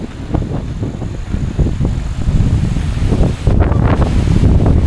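Strong wind roars and buffets the microphone in loud, rumbling gusts that keep up without a break, on a mountain in Aroroy, Masbate.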